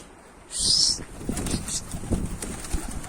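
A pigeon arriving at a loft on a frosty morning, with a sharp burst of wing flapping early on, then softer rustling and movement close by.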